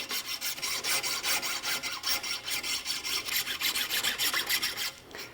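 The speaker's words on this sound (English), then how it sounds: "Continue filing down." A hand file rasps a groove into a homemade bow in quick, even back-and-forth strokes, about three a second, close and loud before it slows and stops, with no talking.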